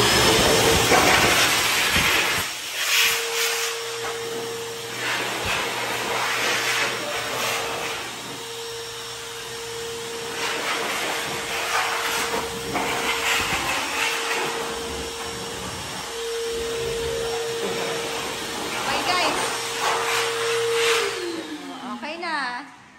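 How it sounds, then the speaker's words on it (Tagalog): A Lotus wet/dry vacuum roars steadily in blower mode blowing dust, with a whining motor tone and rushing air, pausing briefly a few times before winding down at the end. "pag blower naman, syempre, pa-blow niya naman yung mga alikabok"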